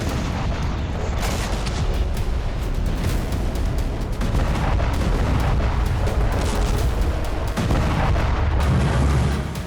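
Explosions and artillery-like blasts from attacks in the Russia-Ukraine war, heavy continuous rumbling booms and bangs overlapping through the whole stretch, loud and dense with no clear pauses.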